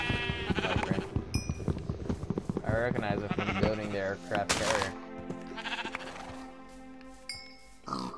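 Sheep bleating in the video game Minecraft, sounding repeatedly beneath near-continuous excited talk from players, with game effects mixed in.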